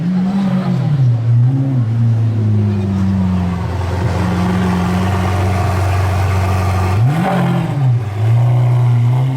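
A supercar engine, heard near a blue Bugatti Veyron, sits at a loud idle, then is revved twice, each rev swelling and dropping back to a deep, steady burble close by.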